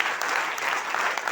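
An audience claps for the achievers at a direct-selling leadership gathering in Bilaspur. The applause is brief, dense and steady, with no pauses.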